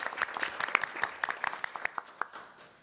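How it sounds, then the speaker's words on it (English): Sparse applause from a small group at a college board of trustees meeting, a few dozen distinct hand claps at moderate distance that thin out and fade within about three seconds. "Give her a big round of applause."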